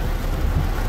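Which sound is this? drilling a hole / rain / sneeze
rain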